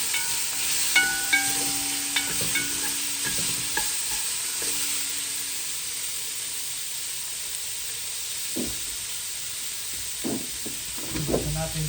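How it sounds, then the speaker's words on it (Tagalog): Fish sautéing with tomatoes in a pan for sinigang hisses steadily while a utensil scrapes and clinks against the pan in intermittent bursts, close by and moderately quiet. "Gisa natin po para lumabas ang usok, ang amoy."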